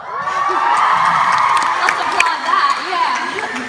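A live audience cheers, whoops and claps loudly at a Brooklyn and Bailey live show, a dense crowd roar with shouted voices riding on top throughout.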